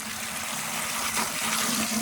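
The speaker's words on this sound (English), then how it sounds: "So here it is with the water on" Water flowing steadily through a car wash water filter, a continuous broadband hiss and rush with a faint low hum underneath, close by and alone.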